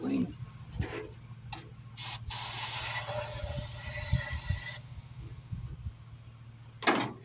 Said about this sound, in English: Got a little brake clean.